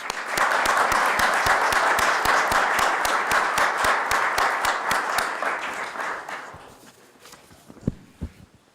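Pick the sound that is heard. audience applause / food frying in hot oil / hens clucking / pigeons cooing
audience applause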